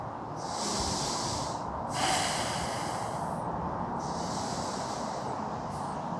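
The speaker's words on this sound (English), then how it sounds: "Filling your lungs up completely with every inhale and letting it all go with every exhale" Deep, slow yoga breathing, with airy inhales and exhales drawn in and let out fully in audible rounds about two seconds apart, close and alone with no talking.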